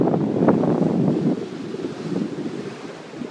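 Ocean waves rolling onto a beach, a rushing wash of surf mixed with wind buffeting the microphone, loudest in the first second and then easing to a softer churn.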